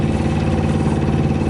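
A sailboat's inboard motor runs steadily at idle while motoring along the French Atlantic coast, a low, even rumble with a regular throbbing pulse and no voices.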